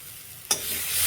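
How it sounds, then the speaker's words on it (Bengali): Spice masala for egg curry hits a hot pan and bursts into a sudden, loud sizzle halfway through, then keeps hissing steadily close by. "মশলাটা ভালো করে ভাজা ভাজা হয়ে গেছে"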